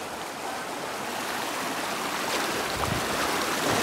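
Forceful waterfall at Ambernath MIDC, a continuous rushing wash of water close to the listener that swells slightly louder toward the end, with no talking heard.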